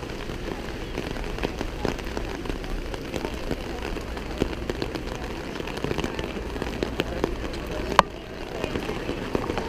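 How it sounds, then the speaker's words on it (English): Rain patters steadily on an umbrella held overhead, a dense close crackle of drops that runs unbroken, with one brief sharper knock near the end. "We are waiting for the rain to go away."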